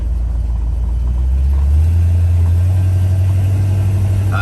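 A bagged square body truck with power steering and power brakes drives along, its deep engine rumble running steady and loud before the note steps up mid-way as it shifts, continuing smoothly to the end.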